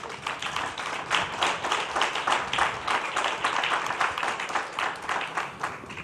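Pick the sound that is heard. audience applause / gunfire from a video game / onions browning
audience applause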